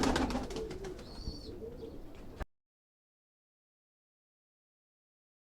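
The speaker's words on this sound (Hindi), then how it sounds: "ये कबूतर है जी हमारे घर ही" A domestic home-bred pigeon coos and calls close by for about two seconds amid bird chirps, then the sound cuts off into silence.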